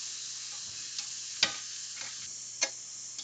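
Plant-based food sizzles steadily in a frying pan over medium heat, a constant hiss with a few soft clicks and scrapes, no voices.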